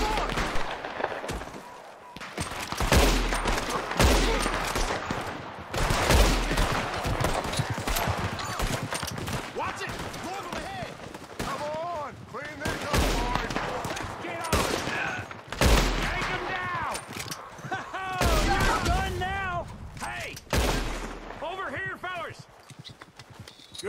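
Gunfight in the video game Red Dead Redemption 2: rapid bursts of gunshots crack close by through most of the scene, mixed with hoofbeats and shouting voices talking over the shooting.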